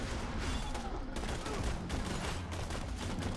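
Gunfire in Borderlands 2 crackles as a dense, fast run of close shots and impacts, near-continuous bursts layered over game noise for the whole stretch.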